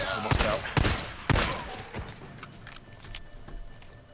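Gunfire in the video game Days Gone: several sharp, loud shots in the first second and a half, then fainter scattered reports and rattling over a busy background.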